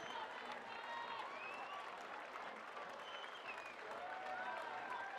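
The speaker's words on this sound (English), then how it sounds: "Big round of applause for all the juniors who competed." Sustained audience applause and cheering fill a youth national climbing championship venue after the junior lead finals, dense and steady throughout with whistles rising over the crowd.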